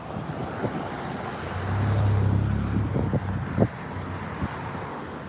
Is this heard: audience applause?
no